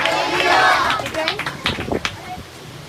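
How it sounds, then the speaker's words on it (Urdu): A church congregation claps loudly for the Holy Spirit during an Urdu sermon. The dense burst of applause and crowd noise fades over a few seconds. "روح القدس کے لیے، پاک روح کے لیے زوردار تالیاں"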